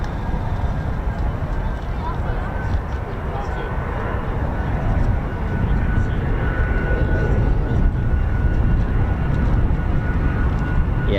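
A US Air Force F-15 or F-35 fighter jet at RAF Lakenheath taxiing fast down the runway, heard as a steady, loud broadband engine roar with a whining tone that swells slightly over the span.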